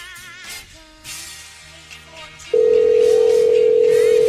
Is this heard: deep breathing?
no